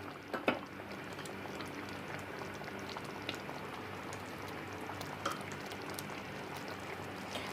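A pot of Tamil village-style fish curry masala bubbles at a steady boil with dense, continuous simmering and popping and a few sharper plops, with no talking.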